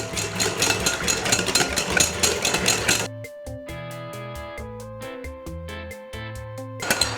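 Batter being mixed as egg yolks are added, a steady mechanical whir for about three seconds, then quieter intermittent tones and light clinks before the whirring briefly returns.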